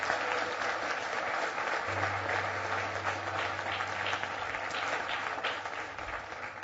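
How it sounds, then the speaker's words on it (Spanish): Church congregation applauding during a sermon, continuous dense clapping at moderate volume over a low steady hum, with a faint voice underneath. "dale el verdadero aplauso al Señor"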